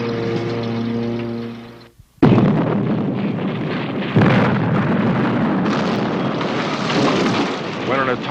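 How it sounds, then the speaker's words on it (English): An atomic bomb explodes with a sudden deep blast that cuts in after a steady tone and a brief silence, followed by a long roaring rumble that swells again midway. "When an atomic bomb explodes"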